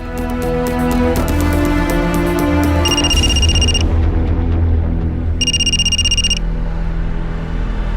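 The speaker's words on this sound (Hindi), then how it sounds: "हॉस्पिटल से फ़ोन था।" A telephone rings in a tense crime drama scene, with two bursts of bright electronic trills heard over a loud, sustained musical drone.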